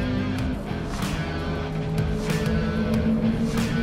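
Race car engine in Project Cars 3 during a night race, a steady droning engine note holding a sustained pitch with a rising tone, loud and continuous, joined by intermittent ticking transients.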